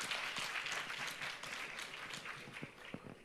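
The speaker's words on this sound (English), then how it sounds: "Shall we give a round of applause to Metagrade?" Audience applause at a health innovation pitch competition, a steady round of clapping from a seated crowd that fades gradually with no talk over it.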